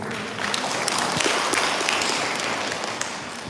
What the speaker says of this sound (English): Let's give a round of applause to all the participants.